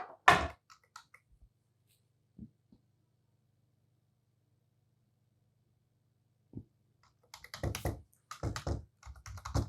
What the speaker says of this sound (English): This is Dell keyboard, one that I had lying around.